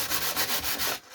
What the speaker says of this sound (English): just give it one last little sand